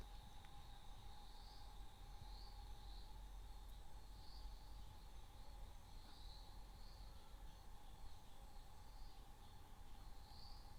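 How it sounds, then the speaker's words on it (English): A faint nighttime chorus of frogs, a steady, continuous trilling drone that stays even throughout with no voices. "the sounds of the night have changed from birds to frogs"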